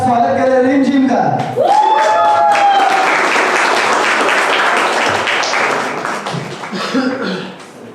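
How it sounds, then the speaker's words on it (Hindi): An audience breaks into loud, sustained clapping to welcome a performer at a live event, swelling right after a brief stretch of voice and then tapering toward the end as talking resumes. "जोरदार तालियों के साथ स्वागत करें रिम जिम का"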